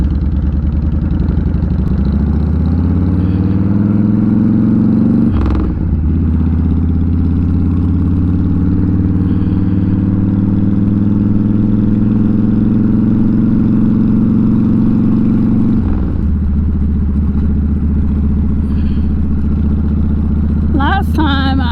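A motorcycle on a short ride, its engine holding a steady, close droning rumble with a brief dip in pitch partway through and a change in tone near the end.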